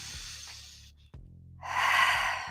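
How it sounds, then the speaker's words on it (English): Deep breaths drawn in through the nose and released out through the mouth during a Pilates back pain exercise, a long audible inhale followed by a louder, airy exhale, close to the microphone. "breathe in through the nose and out through the mouth"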